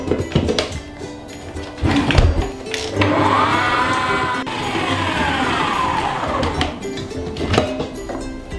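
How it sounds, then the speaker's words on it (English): Stand mixer whipping butter at medium-high speed for a cherry pie illusion cake, a loud, continuous motor whir with a rising and falling pitch and occasional thumps from the bowl. "I'm going to whip it up for a good 5 to 10 minutes on a stand mixer"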